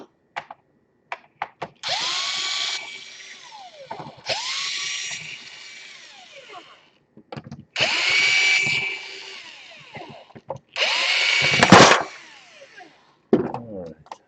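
A power drill drives four screws in turn, giving loud whirring bursts that rise and fall in pitch as each screw seats, with short pauses and clicks between them.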